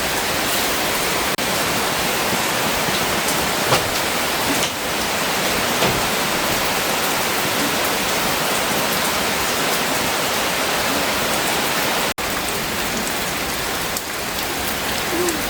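Heavy rain falls steadily on a rural farm, a dense, loud, unbroken hiss of drops hitting surfaces close by, with no speech.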